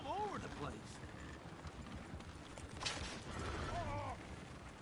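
Horses gallop in Red Dead Redemption 2 with a steady clip-clop of hooves, a couple of brief whinnies and a voice talking over them.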